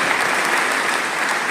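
An audience at an all-India managers' meeting applauds the manager, a dense, even burst of many hands clapping at close range, loud and steady with no voices over it.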